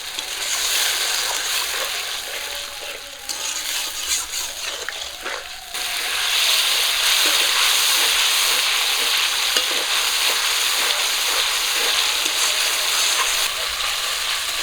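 Spiced masala sizzles loudly in a pan after a small splash of water, a steady bright hiss with a stirring scrape, quieter at first and then swelling to a full constant sizzle for the rest.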